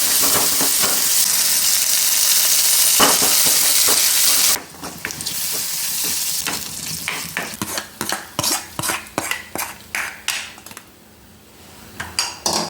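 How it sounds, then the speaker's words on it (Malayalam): Mustard seeds temper in hot oil for Angamaly mango curry, sending up a loud, steady crackling sizzle that cuts off abruptly, followed by a series of sharp metal spoon clinks and scrapes against the pan. "ഇനി നമുക്ക് കടുക് താളിക്കാം."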